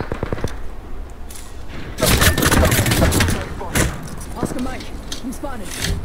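Heavy video game battle gunfire, with loud bursts of shots crackling densely from about two seconds onward, mixed with thuds and game effects under a steady background.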